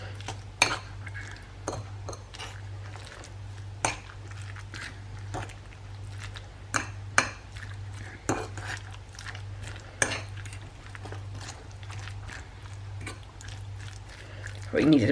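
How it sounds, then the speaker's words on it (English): Ingredients mixed with egg in a bowl: scattered clinks and scrapes of a utensil against the bowl with soft wet stirring, close and fairly quiet over a steady low hum. "all I'm going to do is mix that together so that the egg literally coats everything"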